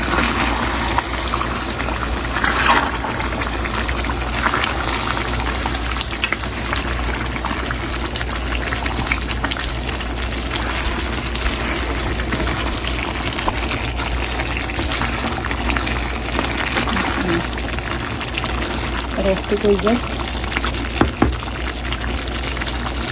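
Coconut milk poured over duck meat cooking in oil gives a steady, close hiss and bubbling wash that runs unbroken and fairly loud throughout, with no talk.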